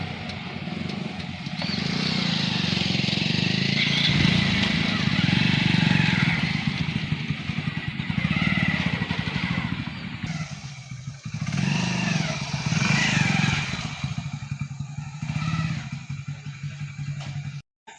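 A motorcycle engine runs close by, idling with a steady rumble and rising into revs, loud and continuous before easing off near the end.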